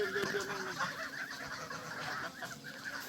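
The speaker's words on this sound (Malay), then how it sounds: "Inilah angsa-angsa tulus kita dah besar dah." A flock of about forty grown geese honks and chatters in a pen, a dense continuous mix of calls near and far.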